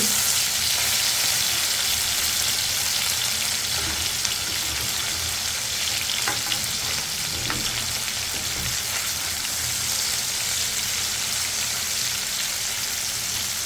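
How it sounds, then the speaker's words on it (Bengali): Fish sizzles in a pan of hot oil, a constant close crackle and hiss, with a few brief clinks partway through. "আমি অপর পিঠ ভেজে নেব"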